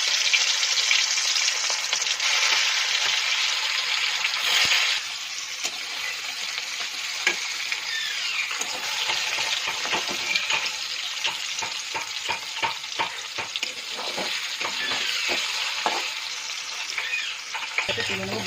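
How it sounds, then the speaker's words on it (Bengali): Paneer pieces frying lightly in oil in a kadai for chili paneer, with a loud, continuous crackling sizzle throughout and frequent spatula scrapes and clicks as the cubes are turned. "কড়াইতে দিয়ে দিয়েছি তেল, এবার পনিরটা ভেজে নেবো হালকা করে।"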